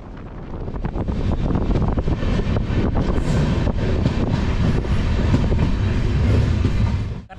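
Passenger train on the Tirunelveli–Tambaram route arriving at Cheranmahadevi station: a loud, close, steady rumble with repeated clickety-clack of wheels over rail joints and buffeting wind noise, easing off at the end.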